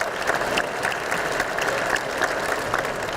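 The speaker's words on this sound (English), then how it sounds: "yes, round of applause." Audience applause at a faculty and staff lunch: sustained, dense clapping from a room full of people, steady and fairly close, with no talk over it.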